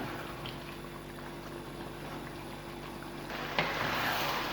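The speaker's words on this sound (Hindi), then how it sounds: "अब हम इसको तकरीबन 5 से 7 मिनट के लिए अच्छी तरह से भून लेंगे।" Chicken handi masala hisses and bubbles steadily in a pan as it fries, a soft, even sizzle that carries on unbroken and swells slightly near the end.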